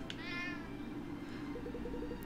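A cartoonish cat meows in the fantasy adventure game Cat Quest II, a single drawn-out, rising-and-falling meow standing clearly over steady game music, followed by a short run of softer chirpy notes near the end.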